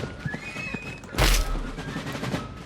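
A horse neighs loudly in a Minecraft game, a single bright whinny bursting in the middle over a busy background of faint tonal game sounds.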